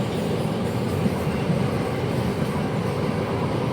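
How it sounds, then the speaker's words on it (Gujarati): Train at the railway station in Palanpur, heard from a footbridge above: a steady, loud low rumble of rolling rail cars fills the whole stretch, with no talk. "પાલનપુરનું રેલવે સ્ટેશન."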